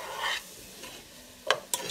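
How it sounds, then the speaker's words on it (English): Herbs being stirred into soup in a pot, with soft swishing strokes followed by two sharp clinks of the spoon against the pot, close up with no speech. "And I'm gonna stir them up in here."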